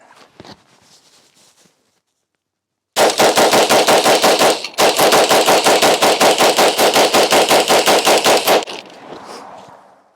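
Rapid semi-automatic shots from an AR rifle run through a 30-round magazine, fitted with a brass catcher at an outdoor range. A loud, evenly spaced string of cracks breaks once briefly, then continues and ends in a fading echo.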